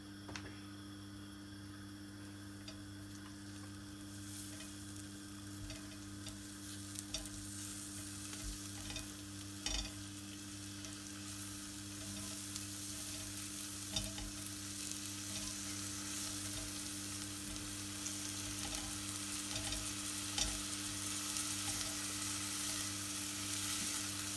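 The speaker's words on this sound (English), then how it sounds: "Heat a pan with the oil and fry the onions gently until they brown." Onions frying gently in oil in a pan, a continuous soft crackling sizzle with occasional stirring taps that grows slightly louder over time, heard alone under a low background hum.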